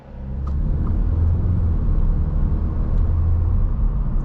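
A 2024 Audi S3 pulls away on the road, its engine giving a steady, close low rumble with a faint turbo whir running through the whole stretch and no talking.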